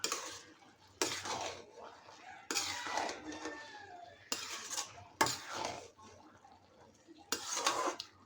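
Khichuri with coriander leaves and fried onions stirred in a pot, a utensil scraping and clinking against the metal in several separate bursts with quiet gaps between.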